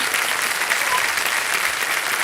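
A studio audience at a televised quiz show gives a short burst of steady, even applause, close and full throughout with no voices over it.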